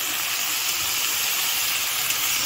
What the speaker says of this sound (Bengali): বেগুনটা ভেজে নিচ্ছি একটু, লবণ আর হলুদ দিয়ে দিয়েছি।